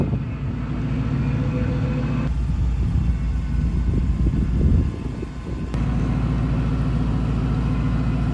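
A Lexus stuck in thick mud at a campsite, its engine running steadily at mid pitch, rising into a louder, rougher rev for a few seconds before settling back to a steady drone; no one talks.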